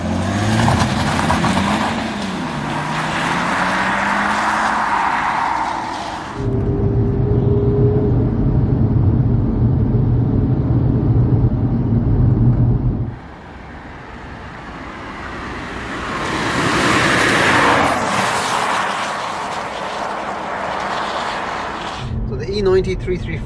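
A BMW E90 335d twin-turbo diesel engine hums and builds under acceleration on country lanes, fading briefly then rising again, with steady road noise throughout.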